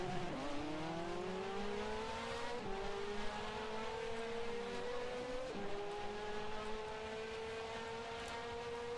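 Race cars accelerate away together at a race start on a narrow track, a loud sustained engine roar with rising revving pitches layered over one another, shifting up as the field pulls away, with no talking.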